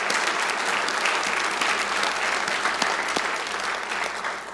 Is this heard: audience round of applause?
yes